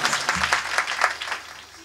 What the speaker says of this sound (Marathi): जोरदार टाळी वाजवून स्वागत करा